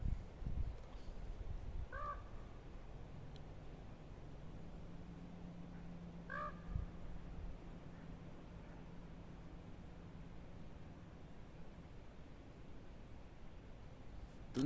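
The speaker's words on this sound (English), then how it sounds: "Is that a raven, chat?" Two raspy croaks from a raven, seconds apart, sound faintly from a distance across a quiet arboretum with a soft background hum.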